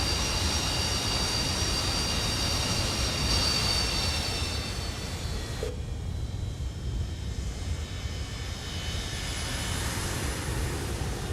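A CP Air Boeing 727-100 touches down in Microsoft Flight Simulator 2024, its loud, steady engine roar and rumbling rollout filling the scene, dropping abruptly partway through to a softer, continuing whine.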